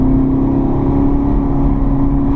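A 675 hp Camaro ZL1 drives through a tunnel, its engine a loud, steady low-pitched drone with deep rumble and a strong harmonic hum, heard from inside the car with no talking.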